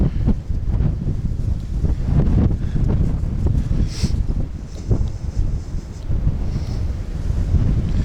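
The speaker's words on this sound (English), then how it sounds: "It's so windy. I'm sorry about the wind." Strong wind buffets a microphone outdoors in the Japanese countryside, a loud, continuous low rumble with gusty surges and no talking over it.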